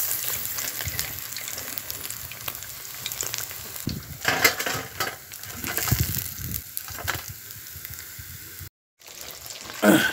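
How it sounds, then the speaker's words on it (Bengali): Pieces of rohu fish sizzle and crackle steadily in hot mustard oil in a pan, a dense, close frying hiss that continues for the full stretch with brief stirring noises and one short gap. "সর্ষের তেল দিয়ে দিচ্ছি। তেলটা গরম হয়ে গেছে, মাছগুলো এক এক ছেড়ে দিচ্ছি।"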